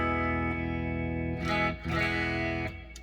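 A PRS SE McCarty 594 electric guitar on a clean channel with its push-pull coil switch in parallel mode, giving a chimey, single-coil-like tone: a sustained ringing chord followed by a couple of brighter strums, close and clear.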